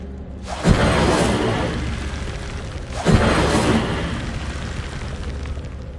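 Two fiery bursts of an Incendio spell in a Hogwarts wizarding game, each a loud whooshing boom that flares up then fades into a roaring tail, about two seconds apart, with no voices.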